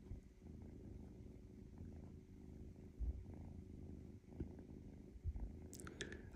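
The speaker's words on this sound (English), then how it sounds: "Who's purring?" A small kitten purrs steadily and softly nearby for several seconds, a continuous low rumble, with a few faint rustles and a brief higher chirp or squeak near the end.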